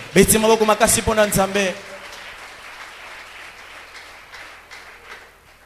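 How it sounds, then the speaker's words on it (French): A voice speaks loudly for a moment in a church service, then the congregation breaks into a diffuse, fairly faint wash of clapping that carries on to the end. "Acclamons très fort le Seigneur"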